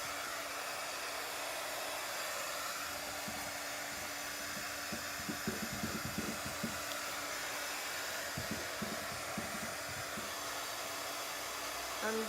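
A hair dryer blows steadily on wet paint on a painted table. It is a constant, fairly faint whoosh that runs the whole time, with some soft bumps and rustles partway through.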